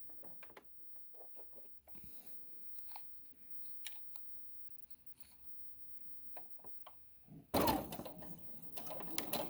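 A sewing machine stitching a little dress gives soft, intermittent clicks and short mechanical bursts, then runs in a loud, dense whirring stretch near the end.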